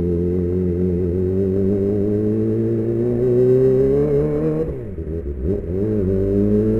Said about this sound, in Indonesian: review knalpot Austin Racing masuk ke daerah perumahan